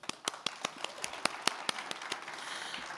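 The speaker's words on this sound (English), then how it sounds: "give yourselves a round of applause" Sparse, spaced claps ring out one by one at a press conference, a thin scattering of hands in a roughly regular rhythm, fairly quiet and fading toward the end.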